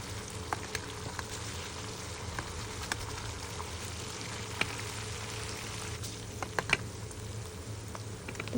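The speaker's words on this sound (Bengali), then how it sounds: "পেঁয়াজগুলো হালকা সিদ্ধ পর্যন্ত ভেজে নিতে হবে" Sliced onions with salt and sliced garlic fry in a pan for a Chittagong-style loitta fish bhuna, giving a faint, steady sizzle with occasional small pops and crackles.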